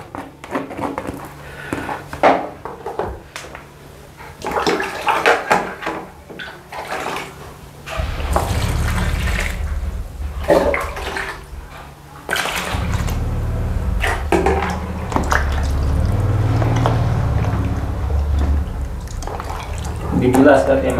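Water splashes and pours while something is rinsed in a basin, then the water is dumped out, with a steady gushing rush in the latter half. People talk over it throughout.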